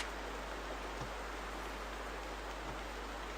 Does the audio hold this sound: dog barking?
no